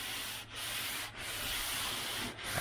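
A grinder works down the steel fender of a 1978 Chevy Nova, a loud continuous abrasive rasp close by, easing off briefly three times in a rough rhythm.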